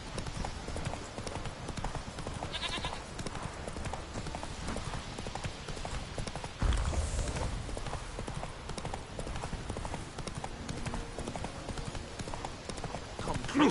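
Geralt's horse Roach clip-clops at a steady walking rhythm in The Witcher 3, close and fairly soft hoofbeats continuing throughout, with game ambience and occasional voices around them.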